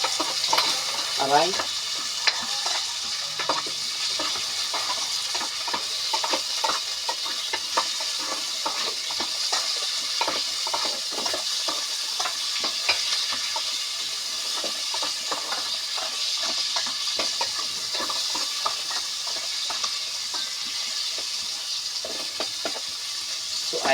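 Pechay stems stir-fry in a hot pan over a gas stove, giving a continuous close sizzle broken by frequent scraping and clacking stirs. A brief exclamation is heard once.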